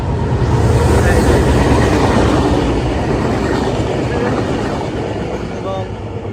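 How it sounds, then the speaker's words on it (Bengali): A train rolls past on a railway line in Assam as dusk falls, a steady, loud broadband rumble that stays close and fades slightly toward the end. "ট্রেন যাচ্ছে হয়তো ফলো হচ্ছে না ওই যে ট্রেন অলের পাশ দিয়েই ট্রেনের লাইন করা আছে"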